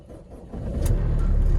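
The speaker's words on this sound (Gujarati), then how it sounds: "ઈ ડીઝલ એન્જિન હો બાપ." A diesel car engine idling and running steadily at a fuel pump, a low rumble that swells louder after the first half second and holds close and even, with no talk.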